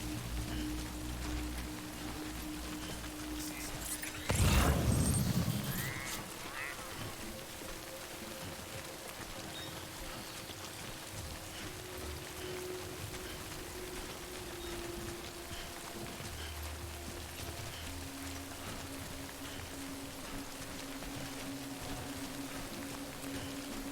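Timefall rain in the video game Death Stranding patters steadily and evenly throughout, a continuous hiss of falling drops with a brief loud splash or whoosh early on and low ambient tones underneath.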